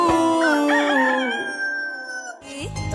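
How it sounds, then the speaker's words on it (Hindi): A rooster crows cock-a-doodle-doo in a children's song, giving one loud, drawn-out call of stacked tones that falls in pitch, then cuts off into a short burst of other sound. "कुकड़ू कू मुर्गा बोले कुकड़ू कू"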